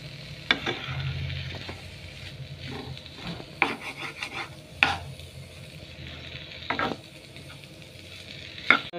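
Potato filling for batata vada stirred and cooked in a pan, with repeated scraping and rubbing strokes of a spoon over a low sizzle, a few sharper scrapes standing out near the end.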